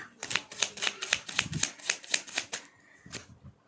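Tarot message cards are shuffled and drawn by hand, a quick run of about ten soft, crisp flicking taps in a steady rhythm before a pause and a last light shuffle, close and quiet.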